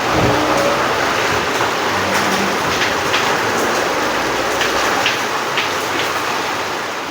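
Steady rain falling in a Tamil Nadu village, a dense, loud, continuous hiss with faint patters on surfaces, close by and unbroken throughout, with no voices.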